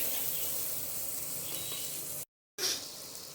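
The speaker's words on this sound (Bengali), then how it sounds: "নেক্সট আমরা দিয়ে দিচ্ছি জিরে গুঁড়ো, দিয়ে নাড়াচাড়া কিছুক্ষণ এরকমভাবেই নাড়াচাড়া করতে থাকবো।" Cumin powder sizzles in a pan as it is stirred, a steady hiss broken by a brief moment of silence, then resuming with a louder burst.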